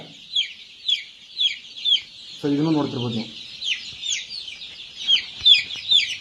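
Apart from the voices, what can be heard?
one-week-old Giriraja chicks chirping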